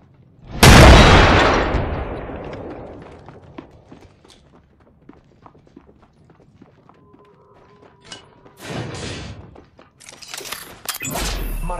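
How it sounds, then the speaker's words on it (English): A frag grenade in Apex Legends detonates with a loud, booming blast that rings out and slowly fades, followed by scattered small clicks and a couple of later, softer bursts. "Frag grenade sent"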